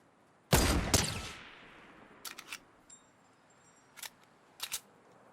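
Gunfire in the video game Fortnite: two sharp, loud shots with a decaying tail, followed by a few fainter, distant cracks spaced out over a quiet background.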